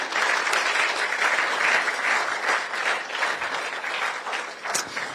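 An audience claps steadily at a sponsored public event, a dense, sustained wash of applause at close to moderate distance with no voices over it.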